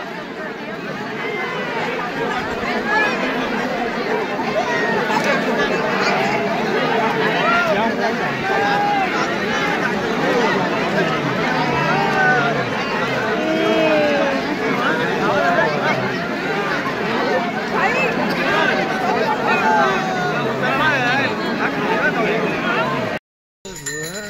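A huge crowd at Trimbakeshwar temple in Nashik on a Shravan Monday before dawn fills the air with dense, steady chatter and murmuring voices, loud and continuous throughout with a brief dropout near the end.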